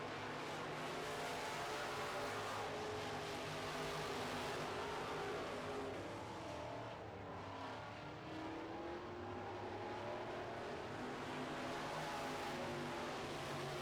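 Midwest Modified race cars roar continuously around a dirt track during a heat race, engines droning and shifting in pitch as the pack passes, loud and steady for the whole stretch.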